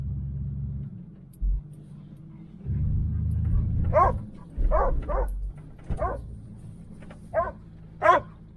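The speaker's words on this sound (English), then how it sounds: "Puppy thinks we're going for a ride." A puppy lets out a string of sharp, high barks, spaced irregularly over the low rumble of a running 1977 Chevy Malibu Classic.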